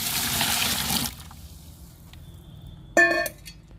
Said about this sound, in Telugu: దోసపిండి వాటర్ పోస్తున్నాను.